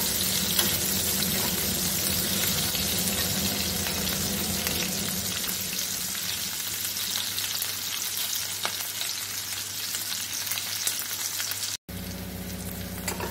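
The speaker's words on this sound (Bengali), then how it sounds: "পেঁয়াজগুলো খুব লাল করে ভাজবো না, একটু ট্রান্সলুসেন্ট করেই আমি সসটাকে অ্যাড করে দিচ্ছি।" Onions fry in hot oil for Szechuan chicken, a loud, steady sizzle that crackles close by and is stirred now and then, with a brief cut and a softer sizzle at the end.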